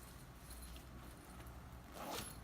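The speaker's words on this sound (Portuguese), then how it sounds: "Abre o zíper." A zipper is pulled open on a removable pet bed cover, giving a brief close rasp near the end over a quiet room background.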